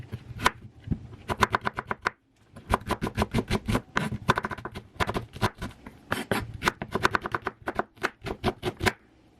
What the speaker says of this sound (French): j'ai 3 oignons que je vais couper en petits dés